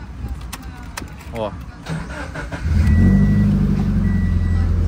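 Manual six-speed car starts with the clutch pressed: brief cranking, then the engine catches at about 2.7 s and settles into a steady, loud idle close by, with a short spoken remark over it.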